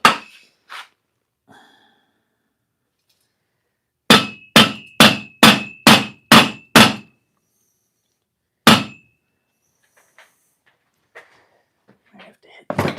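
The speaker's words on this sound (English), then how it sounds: "I have to hit my hammer slammer." A hammer strikes in sharp, loud blows: a couple of early hits, then a rapid run of seven evenly spaced whacks, a single later hit, and faint knocks near the end.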